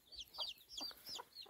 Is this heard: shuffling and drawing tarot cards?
no